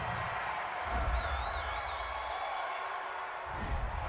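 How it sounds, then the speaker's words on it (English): Football stadium crowd at a Steelers versus Cardinals game reacts to a roughing-the-passer penalty call, a steady wash of distant crowd noise and scattered whistling with a swell of low rumble partway through. "this crowd does not like that call"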